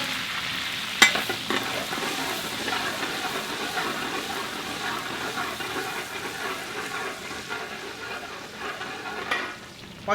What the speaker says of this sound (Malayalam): എണ്ണ കാഞ്ഞിട്ടുണ്ട്. ഇനി വേപ്പില ഇടുകയാണ്.